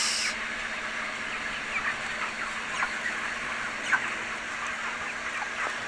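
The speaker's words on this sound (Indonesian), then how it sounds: "kita ngasih makan ayam guys" Scattered soft clucks and faint bird calls from a flock of about 3000 broiler chickens at feeding time over a steady background hum, no talking.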